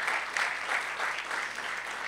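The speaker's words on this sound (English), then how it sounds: "Round of applause, ladies and gentlemen, for Harbhajan Singh." A live audience at a travel partnership launch event welcomes cricketer Harbhajan Singh with sustained applause, a dense, steady wash of many hands clapping at even loudness for about two seconds with no voices on top.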